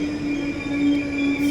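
A train at a German railway station, a loud, steady rumble with a sustained high wheel squeal, close by and without any voices.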